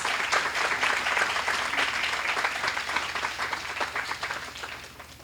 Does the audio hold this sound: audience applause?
yes